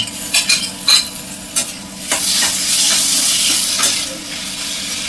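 Tomatoes hitting softened frying onions in a pan, with a few sharp scraping stirs first and then a loud, steady burst of sizzling and hissing, close up.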